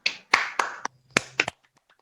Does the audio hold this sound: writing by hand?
no